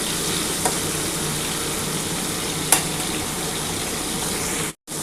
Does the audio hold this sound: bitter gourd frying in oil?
yes